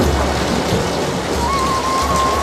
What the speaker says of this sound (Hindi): वर्षा के देव ने जमीन पर सुवासिक जल छिड़का